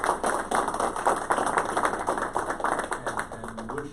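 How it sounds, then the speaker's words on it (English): Audience at a council meeting applauding a departing alderman: dense, steady clapping from a modest crowd, continuous throughout with slight fading toward the end and a faint voice near the close. "So will you all join me in applauding Alderman Grove?"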